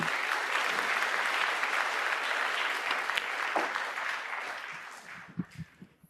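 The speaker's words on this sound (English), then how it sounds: "You heard the applause. That's because over on table 2," Crowd applause carries over from another table at the 2025 Tour Championship snooker event, a steady wave of clapping that thins out into a few scattered claps.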